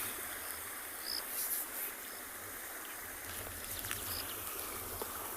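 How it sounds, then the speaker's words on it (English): Water rushes over rocks in a steady, faint, continuous wash on an afternoon safari in South Africa, with a soft outdoor background and no voices. "just to sit and listen to the sound of the water rushing over"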